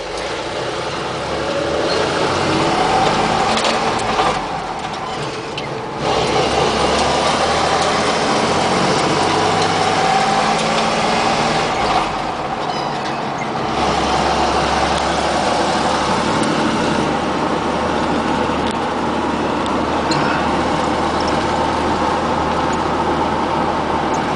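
A K30 truck with a swapped 4.3 engine and 4-speed overdrive drives along, its engine a steady, loud drone throughout, with a brief dip in level around the fifth second before the pull resumes.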